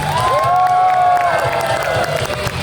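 Crowd cheering and applauding a street juggler in Melbourne, a loud, continuous roar of whoops and shouts with clapping, steady throughout.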